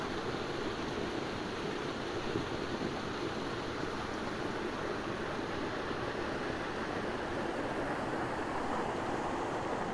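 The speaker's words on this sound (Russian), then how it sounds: "По дороге встречаем водопад, красивый очень." Cascading waterfall beside a trail in the Alps, a steady broadband rush of falling water that stays constant and fairly close, with no voices.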